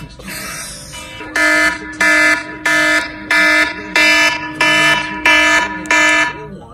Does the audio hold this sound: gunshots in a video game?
no